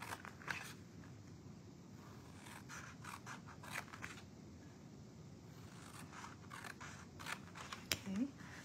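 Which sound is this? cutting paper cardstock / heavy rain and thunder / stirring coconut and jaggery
cutting paper cardstock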